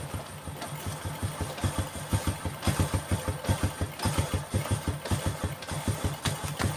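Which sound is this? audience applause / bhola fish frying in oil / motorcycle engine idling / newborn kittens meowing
motorcycle engine idling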